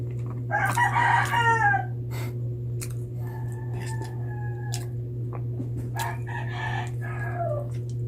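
Chickens cluck and a rooster crows nearby outdoors, several calls spaced across the clip over a steady low hum.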